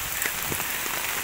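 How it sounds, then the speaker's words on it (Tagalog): Rain falls steadily in an even, hissing patter that stays moderately quiet throughout, with no voices. "Ulan po."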